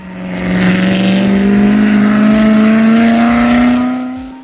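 A loud racing car engine at a tuning show roars close by, its pitch climbing steadily as it accelerates, then fades slightly at the end.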